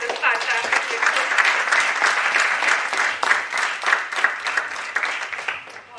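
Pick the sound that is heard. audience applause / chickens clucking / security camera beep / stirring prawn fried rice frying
audience applause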